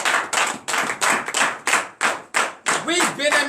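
A prayer congregation claps in unison during a morning worship service, a series of about nine rhythmic group claps, fairly close, with voices chanting along near the end.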